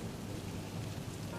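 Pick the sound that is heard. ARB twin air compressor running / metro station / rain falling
rain falling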